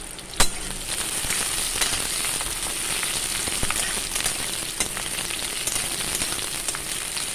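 Garlic cloves and green chillies sizzle steadily in hot oil in a pan, a dense, continuous crackling hiss with a sharp pop near the start and scattered spits throughout, close and fairly loud with no voices.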